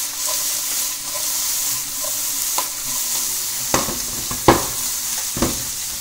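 Fluke fillet pan-roasting over a high flame, a steady close sizzle and fry hiss throughout with a few sharp scraping clicks of a utensil near the end.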